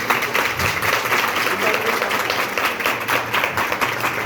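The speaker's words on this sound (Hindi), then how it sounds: "जो खुश हैं वो यीशु के लिए जोरदार तालियां।" Church congregation applauding during a worship service: a steady, dense wash of clapping with voices and cheers mixed in, holding at an even level throughout.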